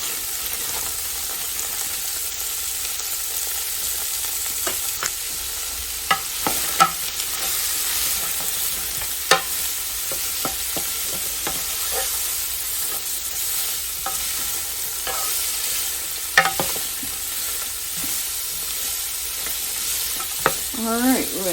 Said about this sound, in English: we're going to give that a saute